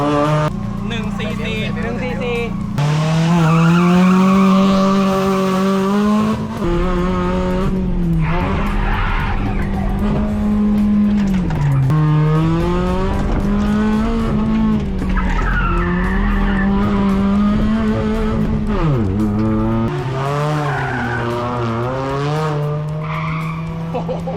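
A car skidding on a handbrake turn at a gymkhana event, its engine revving and tires scrubbing in a long, loud, continuous run with rising and falling pitch, while people talk over it.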